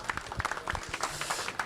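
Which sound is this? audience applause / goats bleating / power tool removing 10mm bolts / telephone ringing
audience applause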